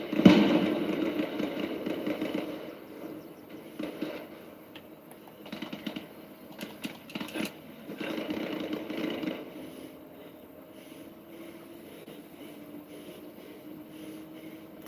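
A tank engine rumbles low and steady in the Arma Reforger war game, with a brief louder swell near the start and faint clicks scattered over the drone.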